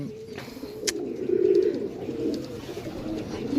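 Pigeons coo softly in a low, steady murmur amid background noise, with a brief sharp sound near the start.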